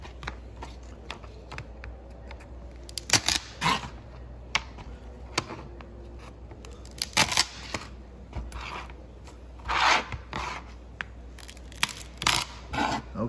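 Kitchen shears snipping down the back of a lobster shell in a kitchen, a series of sharp crunching cuts and cracks, irregular and close, over a quiet background.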